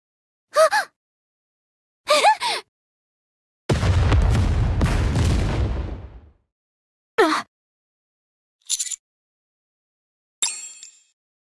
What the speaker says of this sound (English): I managed to dodge the explosion.